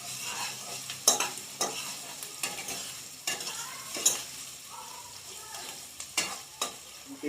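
Onion and spices sizzle in a pan for ridge gourd bharta while a spatula stirs them, soft frying hiss punctuated by a series of sharp scraping strokes, close and with no talk.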